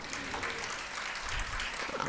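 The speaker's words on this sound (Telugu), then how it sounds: "చప్పట్లతో దేవుని స్తుతిద్దామా?" A church congregation claps in praise during a sermon, a dense, steady patter of many hands sustained throughout at close range.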